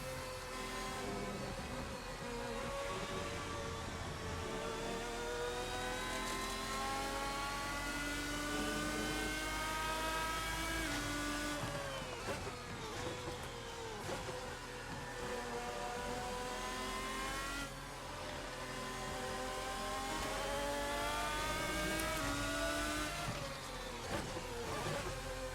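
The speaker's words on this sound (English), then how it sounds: "the longer I get to hear that incredible engine note" A race car engine in the Assetto Corsa racing game roars continuously, its pitch climbing and dropping through gear changes in repeated sweeping waves, loud and sustained with no talk.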